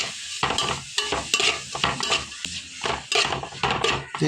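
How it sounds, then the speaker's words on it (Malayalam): Onions being sautéed and stirred in a hot pan with salt and curry leaves for a Kerala-style pork roast masala: rhythmic scraping strokes of a spatula over a continuous sizzle, close and fairly loud. "ശരിക്കും ഇളക്കി കൊടുക്കാം"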